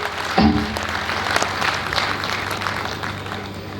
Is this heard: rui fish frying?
no